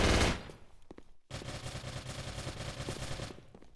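Rapid automatic gunfire from a competitive Warzone video game match rattles in dense bursts, with a short pause before a long sustained stream of shots.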